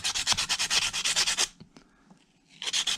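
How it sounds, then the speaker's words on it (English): A sanding block is rubbed over brass casting lines on a Shenandoah rifle kit in quick, even back-and-forth strokes, close and gritty. A pause with faint taps follows, then the strokes resume. "All I'm doing is I'm taking the sanding block,"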